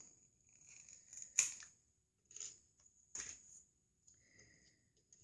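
Scissors cut paper in a quiet room, a few separate crisp snips with short rustles between them, close and alone.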